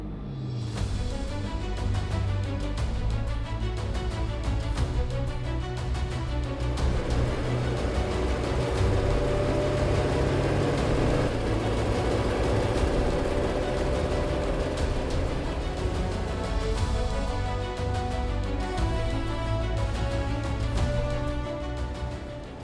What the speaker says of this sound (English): The exhaust had basically disintegrated by this point, and the car was making a hell of a noise.